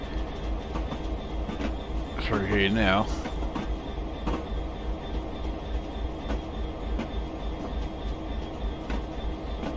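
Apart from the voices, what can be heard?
Class 66 freight train passing, Train Simulator Classic video game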